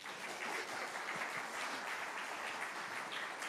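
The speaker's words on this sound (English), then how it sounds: "Look, where's the applause?" An audience claps at a formal event, a continuous even patter of applause, moderately distant and unbroken by any voice.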